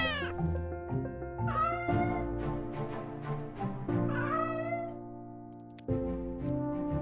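Repeated cat meows from the video game Stars In The Trash, with a tonal, slightly synthetic quality over a steady musical background, several calls spread across the clip.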